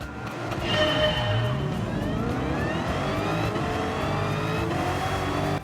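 A Toyota Tundra pickup with a Demon engine swap races around Laguna Seca in Gran Turismo 7, its engine holding a loud, sustained, rising roar with shifting tones throughout, with no talk over it.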